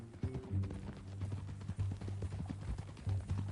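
Horse hooves in the video game Red Dead Redemption 2 clip-clop at a steady riding rhythm, close and fairly loud, with a low background rumble under the beats.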